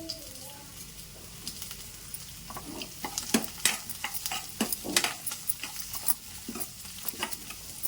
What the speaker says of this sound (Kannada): ಇಷ್ಟನ್ನು ಕೆಂಪಾಗೋ ಥರ ಹುರ್ಕೋಬೇಕು